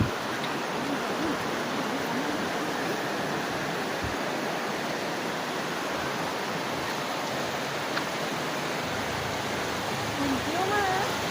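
A river flows somewhere below, a steady broadband rush of water filling the whole stretch without a break, loud and constant, with faint voices now and then over it.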